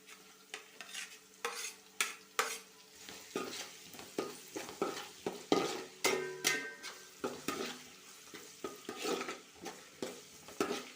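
Onions sauté in a pan for kuzhi mandi while a spoon stirs them, with rhythmic scraping strokes roughly every half second over a soft sizzle, clattering against the pan, nearby and no talk.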